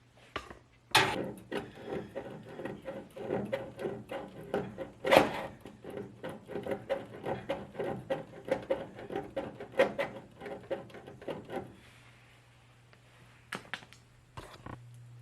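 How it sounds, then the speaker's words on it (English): Paint is scraped off the body of a 1966 Mustang down to bare metal, a close run of rapid scratchy strokes and clicks for about eleven seconds before it tapers to a few scattered scrapes. "I'm gonna scrape some of this paint off so we can try and get a good bare metal contact"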